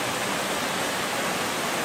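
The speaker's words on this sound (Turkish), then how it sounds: "zarif ve gizemli küçük şelale muhteşem bir şekilde akıyor" Small waterfall on a stream in the Darı Deresi canyon of Kazdağları, Mount Ida, in March, pouring as a steady, dense broadband rush of water that stays even and continuous throughout.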